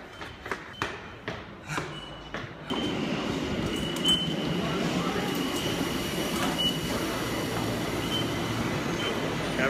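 Train passing close by: a few sharp rhythmic clacks of wheels over rail joints, then a loud sustained rushing roar with faint squeals, no talk.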